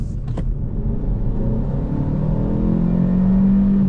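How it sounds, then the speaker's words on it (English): A 2025 Hyundai i30 N Line 48V mild-hybrid accelerating at full throttle, the engine note rising steadily in pitch and loudness as it revs out, heard from inside the cabin with no talking. "revs out pretty hard, and there's a very faint little exhaust pop on some upshifts"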